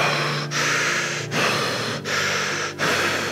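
Deep, rapid, rasping breaths during guided meditation, four long forceful exhalations in a steady rhythm, each broken by a short quick pause, close and loud with no talking.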